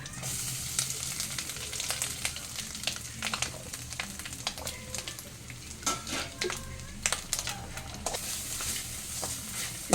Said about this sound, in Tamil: இந்த தேங்காயை சேர்த்து வறக்கணும்